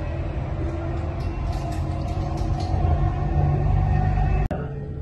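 A Dubai Metro train heading toward Expo 2020 rumbles steadily from inside the carriage, with a loud, continuous low roar of wheels and motors, light high-pitched whine on top, and a single sharp jolt near the end.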